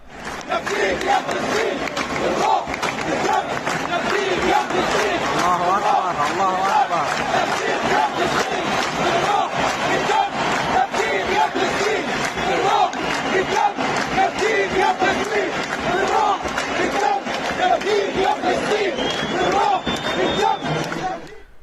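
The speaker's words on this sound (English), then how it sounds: "crowds sang the words, "With spirit and blood, we will redeem you, O Palestine."" A huge stadium crowd at a football match chants in unison for Palestine, a dense, continuous roar of massed voices with rhythmic surges, loud and sustained throughout.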